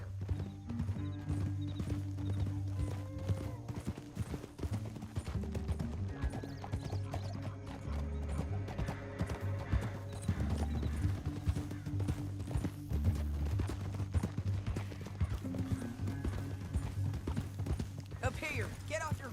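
Rhythmic clip-clop of horse hooves running steadily, with an occasional whinny over a low musical drone, in the video game Red Dead Redemption 2.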